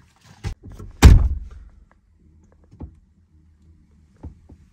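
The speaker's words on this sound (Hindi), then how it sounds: "दरवाजा बंद कर फटाफट।" A single heavy thunk of a car door being shut, loud and close, with a short rumble trailing off, followed by faint knocks in otherwise quiet surroundings in a forest at night.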